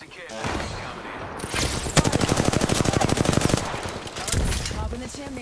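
Rapid automatic gunfire in the battle royale game Apex Legends, a dense stream of shots over several seconds with a brief later burst, mixed with game effects and voice chatter.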